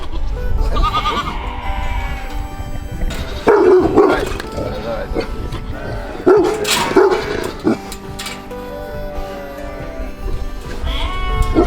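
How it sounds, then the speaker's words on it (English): A Great Pyrenees puppy gives a few sharp alert barks amid people talking nearby, the barks standing out in short bursts over the chatter. "It's an alert bark, that's it."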